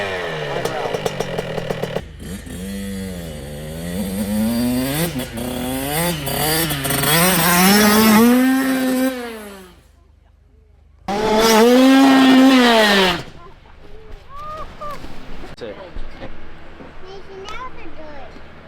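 A dirt bike engine revs hard at full throttle, its pitch climbing and wavering in long loud bursts, dropping off briefly before roaring again, with a person talking over and between the revs.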